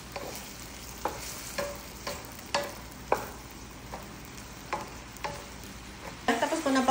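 Vegetables with soy sauce being stirred in a pan, a spatula scraping at a steady rhythm roughly twice a second over a soft sizzle, close and fairly quiet, with no talking.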